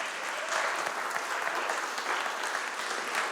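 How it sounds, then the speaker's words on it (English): Congregation clapping for volunteers at a Sunday church service, a steady, even roll of many hands at moderate distance, sustained without pause and with no voices on top. "Now a round of applause for all these beautiful volunteers."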